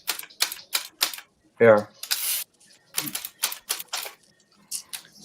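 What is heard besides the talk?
typewriter typing noise sample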